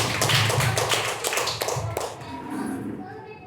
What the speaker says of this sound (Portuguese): Vamos receber nosso irmão com palmas para Jesus, amém?